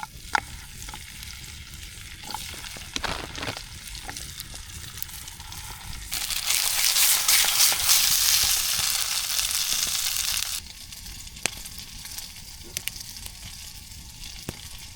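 Pierogies fry in butter on a camp stove during a winter camping trip, a close sizzle with scraping and crinkling, swelling into a loud hiss in the middle before it settles back to light crackling.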